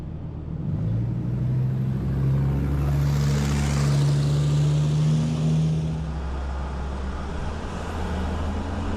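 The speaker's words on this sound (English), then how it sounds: "I got this truck behind me too." Road noise surrounds a car driving along the Great River Road, with a heavy truck following behind rumbling steadily and swelling louder for several seconds before easing back to a constant low drone.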